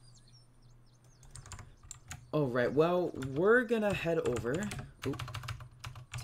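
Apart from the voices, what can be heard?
typing on a clicky computer keyboard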